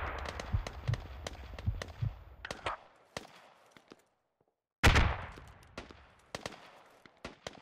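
Gunfire in the video game Squad during a forest battle, rapid bursts and single cracks from several weapons, near and far, with a short silent gap before a loud blast and more shots.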